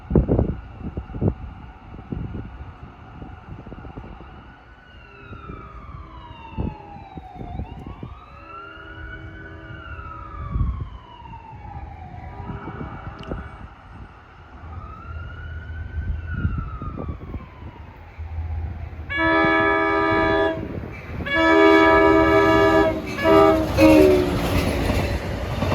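Long Island Rail Road train 40 passing on the Montauk Branch east of Babylon, a rumbling approach with repeated bell dings, swelling to a loud roar as it goes by, and several blasts of the horn near the end.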